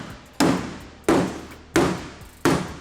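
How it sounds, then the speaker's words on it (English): Four heavy hammer blows on steel, evenly spaced about two-thirds of a second apart, each a loud sharp clang that rings and decays, struck while making room for a big-block engine in a 1100 HP BMW drift car. "Need a bigger hammer."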